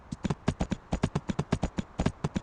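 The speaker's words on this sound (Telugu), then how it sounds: "తెల్ల గుర్రం దొరికింది" Rapid, steady clip-clop of a white horse's hooves in the video game Free Fire, a continuous run of sharp hoofbeats at a brisk gallop, close and clear with no talking.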